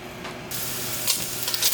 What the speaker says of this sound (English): Got that nice little sizzle happening there